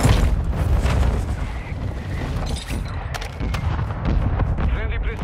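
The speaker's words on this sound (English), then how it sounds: "Mortar strike inbound." Mortar strike explosions in a video game thunder as a continuous, dense barrage of loud booms and rumbling blasts, with gunfire mixed in throughout.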